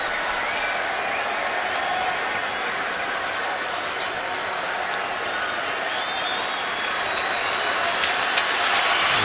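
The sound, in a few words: stadium crowd reacting to a Raiders player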